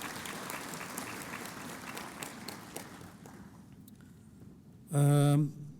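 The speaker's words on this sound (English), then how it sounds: "I would like to ask for a round of applause for their presence" Dense clapping from a conference audience fills the first few seconds and gradually thins out, followed by a short loud tonal burst near the end.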